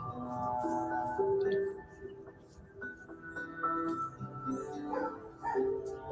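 Somewhere off in the background a neighbor's dog barks in short, irregular bursts, fairly faint and spread across the stretch with some overlapping murmur.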